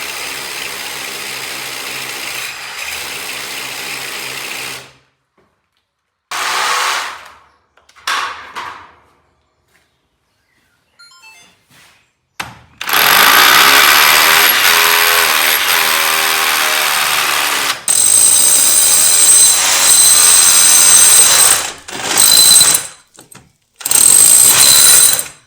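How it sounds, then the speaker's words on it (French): Power drill fitted with a masonry bit widening a hole in a flint wall, loud grinding bursts that start and stop several times with short pauses between runs, straining against the hard stone. "je suis en train de réagrandir mon trou avec une mèche à béton"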